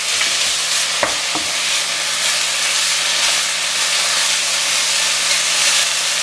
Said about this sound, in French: on mélange le tout avec les oignons